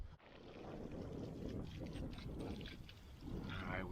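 Wind gusting past a microphone at a lakeside paddling camp, a steady broadband rush with low buffeting, loud and close throughout.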